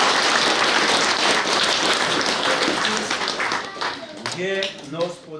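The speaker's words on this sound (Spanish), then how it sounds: "le regalamos un fuerte aplauso a nuestra Madre" Loud, dense applause from a crowd at a religious celebration for the Virgin of Mercy fills the space, tapering off toward the end as a voice begins speaking.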